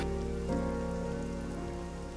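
Steady rain pattering on surfaces in a video game, a dense, even hiss with a slight surge near the start, continuous and fairly close throughout with no voices.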